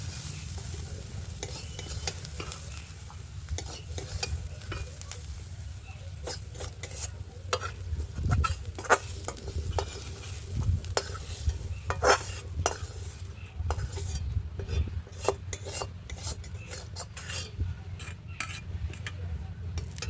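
A spice mixture for fish curry is stirred and fried in a pan, with steady low sizzling and frequent scraping clicks of a spatula against metal, close and moderately loud, with no talking.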